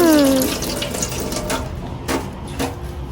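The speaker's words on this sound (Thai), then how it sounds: "มะเขือเทศสามลูกล้างก่อน ล้าง" Tap water runs steadily over three tomatoes being washed, a close, continuous splashing hiss with a few brighter spatters.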